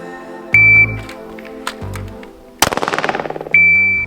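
Gunfire from a shooter kneeling at a target: a few loud sharp single shots, then a fast rattling burst of rapid shots, with an electronic beep sounding at the start and end.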